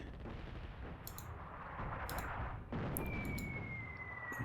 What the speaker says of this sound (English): Let's get another airstrike in.